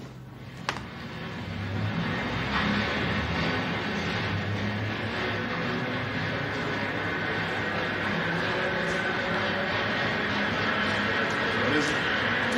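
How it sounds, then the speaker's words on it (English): A passing train makes a steady, loud rumble that fills the whole stretch, with broad continuous roar and a faint whistle-like tone near the start, close and sustained without gaps. "That was a train."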